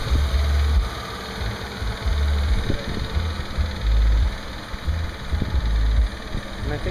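Engine of a 2005 Ford Excursion idling nearby, a steady low rumble with a rhythmic pulsing throb that runs continuously through the whole stretch.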